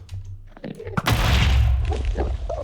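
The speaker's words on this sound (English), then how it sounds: "Those explosions hurt, by the way." A loud, rumbling video game explosion in Minecraft modpack FTB Revelations bursts out after a few brief thuds, followed by a roaring, crackling tail and scattered smaller pops.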